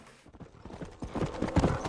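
Horse hooves clip-clopping in the Red Dead Redemption video game while taming a wild horse, a quick run of rhythmic thuds growing louder and closer over a couple of seconds, with no talking.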